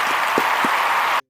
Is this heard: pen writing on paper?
no